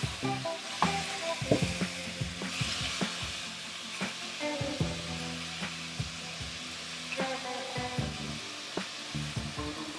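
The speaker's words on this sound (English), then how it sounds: "Let's place the meat in the wok." Steak with good marbling sears in olive oil in a wok over high heat, giving a steady loud sizzle with scattered pops and crackles and a few clanks throughout, and no one speaks.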